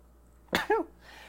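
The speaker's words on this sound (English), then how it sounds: "trying to subdue the sneeze" A single stifled sneeze, a sharp muffled burst followed by a short voiced tail, close up in a quiet room.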